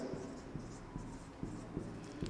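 Pen or marker writing chemistry notes on paper close by, soft scratchy strokes with periodic taps as each word is started, faint and steady with no voice.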